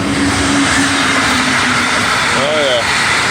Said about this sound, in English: there goes a train going by.